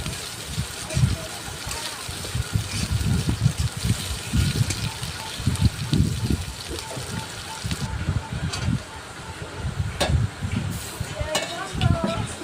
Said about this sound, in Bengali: পেঁয়াজটা নেড়ে চেড়ে ভালো করে বাদামি কালার আসা পর্যন্ত ভেজে নেব।